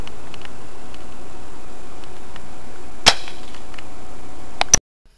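An airsoft L96 sniper rifle fires, a sharp close crack followed a moment later by a second pair of snappy clicks, then quiet.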